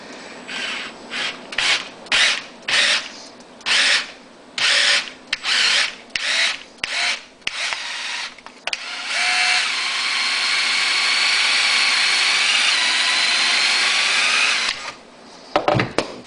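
A hand-held power drill whirs in a series of short bursts, then runs in one long, steady, grinding stretch as the bit bites through metal, close and loud.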